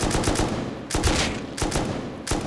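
Gunfire in the Rust survival game during a raid: several loud, sharp bursts of shots in quick succession, spaced through the moment with brief gaps, close and dominant with no talk over them.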